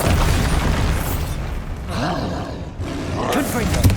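Heavy booming blasts and roaring magical impacts from the Bombarda spell in Hogwarts Legacy, dense and loud throughout, with a voice calling out over the combat.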